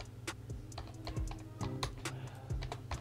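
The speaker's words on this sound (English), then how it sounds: "I just want to type, let me type like Brack Lobot" Typing on a computer keyboard, entering a text prompt into a website, with irregular bursts of close, crisp key clicks and a few heavier thumps, no talking.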